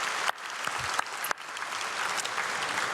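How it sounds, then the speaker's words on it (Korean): A church congregation in Korea applauds during an early morning prayer service, a sustained dense wash of many clapping hands filling the room, loud and even throughout with no talk. "우리 박수로 감사를 축복하겠습니다"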